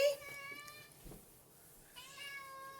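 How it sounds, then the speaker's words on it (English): A small house cat meows twice, a clear close mew at the start and another drawn-out one near the end, with a quiet gap between them and faint background noise throughout. "I have a little kitty cat here who's dying for some attention"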